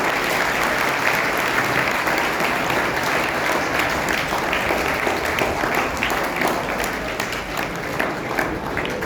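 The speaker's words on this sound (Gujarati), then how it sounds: "જોરદાર તાળીઓથી આપણે એનું સ્વાગત કરીશું." A school audience in Umrala, Gujarat, applauds to welcome a guest at a Chaitri Navratri Matrushakti Vandana programme. The clapping is dense and steady, a continuous crowd roar lasting nine seconds with no talk over it.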